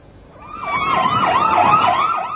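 Wailing ambulance and police sirens sweep up and down in steady overlapping cycles, loud and close amid street noise, with no talking.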